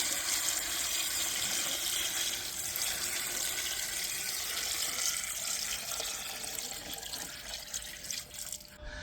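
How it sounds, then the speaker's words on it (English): Cooled brine poured into a container of soaked Kalamata olives, a steady continuous splashing wash of liquid that runs without pause and eases slightly near the end, close and alone with no talk. "this is the brine that we prepared last night. It's cooled and it's now ready to go into the olives."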